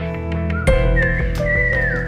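Loud, close whistling from a man calling a girl outside, a few rising and sliding whistled tones over a steady backing of music.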